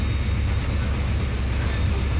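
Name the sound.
train engine in Trainz 2022 video game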